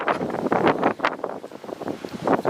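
Strong cyclone wind roars and buffets a microphone in Chennai, loud irregular gusts surging and fading in quick succession.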